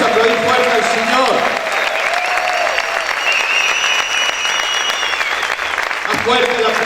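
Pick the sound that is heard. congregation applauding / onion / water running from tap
congregation applauding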